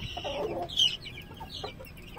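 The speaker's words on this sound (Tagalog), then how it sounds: "nilipat na natin dito yung ating mga sisiw" Young chicks cluck and peep close by in short bursts, fairly loud and alone without talk, just after being moved to a new spot.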